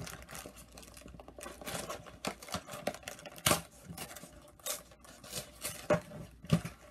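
Cardboard being pressed and popped out along the perforations of a toy set's thumb hole, a close run of sharp crackling snaps and crinkles over several seconds with no talking.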